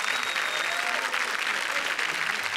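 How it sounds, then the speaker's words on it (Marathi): Loud, sustained applause from an audience for actor Abhinay Berde, a dense continuous clapping that fills the whole stretch without a break. "जोरदार टाळ्या झाल्या पाहिजेत अभिनय बेर्डे यांच्यासाठी"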